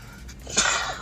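A single sharp sneeze from a man bursts out near the mic, a quick breathy intake followed by an abrupt explosive burst that trails off within a fraction of a second.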